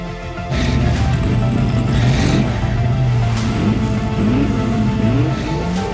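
Hot Wheels diecast cars race down a toy track in a steady rolling roar with shifting whine, continuous and fairly loud for the whole stretch after a brief quieter start.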